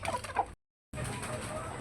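A layer hen on a small home poultry setup clucks in a quick run of soft, close calls, then falls briefly silent before steady farmyard noise resumes.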